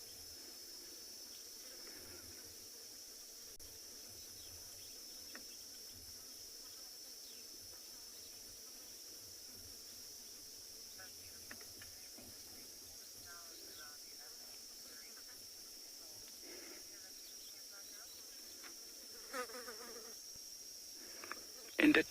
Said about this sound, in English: In the distance you can hear the cicadas or the cicada.